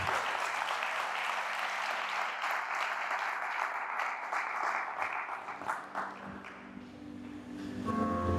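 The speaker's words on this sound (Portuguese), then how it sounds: "Aplauda forte a Jesus" A church congregation claps in sustained, dense applause that rolls on for several seconds, then thins and wavers before swelling again near the end.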